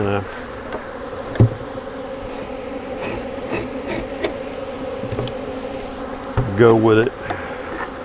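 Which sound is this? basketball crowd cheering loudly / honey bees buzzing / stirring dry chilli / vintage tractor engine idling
honey bees buzzing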